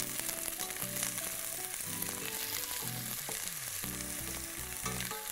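Onions and garlic frying in a pan under constant stirring, a loud continuous sizzle with tonal layered sounds running through it and no speech.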